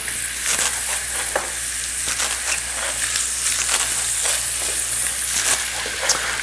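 Onions sizzle and fry steadily in a hot pan, a continuous bright hiss with scattered crackles and pops, close and even throughout with no talking.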